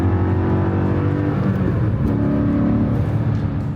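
A Mercedes CLK55 AMG's naturally aspirated 5.4-litre engine, swapped to a manual with a lightweight single-mass flywheel, revs up and settles close by, a deep steady engine tone with rising and falling pitch and no talking.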